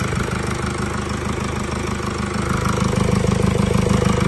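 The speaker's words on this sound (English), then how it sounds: "we'll start the engine up in a minute" A 2017 Mercedes E-Class engine idles after a turbo failure repair, running close and loud with an even, rapid mechanical pulse that grows slightly stronger toward the end.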